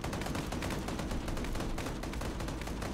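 Vulcan cannon fire in a video game forms a dense, continuous roar of rapid-fire shots, loud and unbroken for a few seconds with no talk over it.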